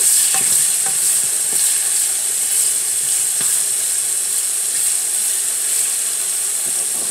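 Ingredients frying in a pot for Haitian chiktay aranso (smoked herring), a steady close sizzle with scattered stirring clicks running throughout.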